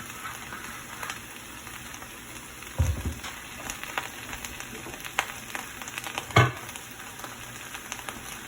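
Cabbage frying in cooking oil in a covered pot, a soft continuous sizzle with a couple of louder thumps or stirring knocks, steady and fairly quiet with no talking.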